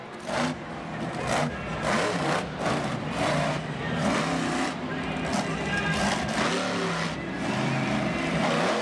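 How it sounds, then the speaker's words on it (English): A monster truck engine roars and revs repeatedly at a 2015 Monster Jam event in Jacksonville, loud and close, with surging bursts of power and a commentator's voice talking over it. "Very loud truck."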